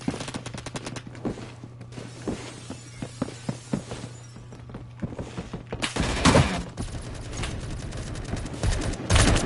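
Rapid automatic fire from a laser rifle in the video game Phantom Forces, bursts of quick shots that build into a louder, denser volley near the end.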